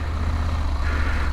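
A 2022 Husqvarna Norden 901 motorcycle engine idles with a steady, deep, close rumbling throb, loud and even throughout, with no talk.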